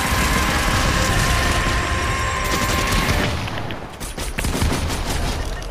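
Rapid, sustained gunfire in Fortnite, a dense stream of loud, close shots that barely eases before resuming, with no talking over it.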